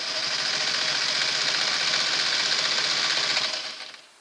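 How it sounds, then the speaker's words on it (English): A Singer Model 603 sewing machine runs a straight stitch at a steady, fast, continuous hum and rattle, close and loud, then winds down at the end; no voices. "we'll go through here with a nice straight stitch, about a number 10 length."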